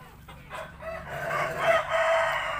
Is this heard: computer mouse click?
no